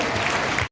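Crowd clapping at a Hindi poetry gathering (kavi sammelan) at the NTPC campus in Kahalgaon, Bhagalpur, a brief, loud, dense burst that stops abruptly.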